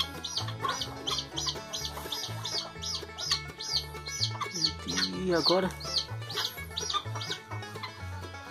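Hens cluck and chirp repeatedly, close by, in a busy overlapping rhythm, while a person speaks briefly over them; one hen is starting to brood.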